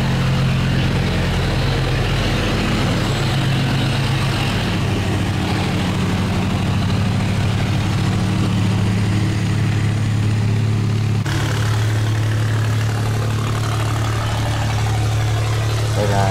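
A steady, chugging boat engine idles and hums continuously at close range, loud and unbroken, with faint background noise.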